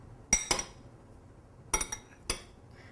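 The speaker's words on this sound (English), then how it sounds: "And I'm just going to mix it first." Asparagus salad being tossed in a bowl, a few sharp clinks of utensils against the dish in two quick pairs and a final tap, close and otherwise quiet.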